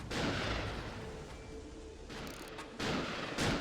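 Gunfire in the video game TimeSplitters: Future Perfect, a loud, dense burst of booming shots filling the clip, with sharper blasts near the end.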